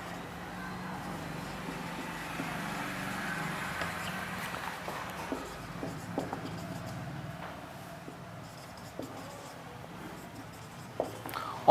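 Chalk or marker writing on a board during a maths lesson on circles and tangents: faint, irregular taps and strokes scattered over a quiet classroom background.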